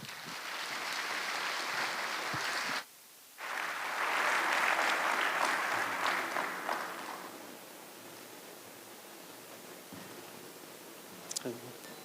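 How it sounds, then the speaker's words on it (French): An audience at a formal French-language official ceremony applauds the president with a broad, hissing wash of clapping, briefly cut off, then swelling loudly before easing to a quieter sustained patter that fades toward the end. "Mesdames et Messieurs, sous vos applaudissements."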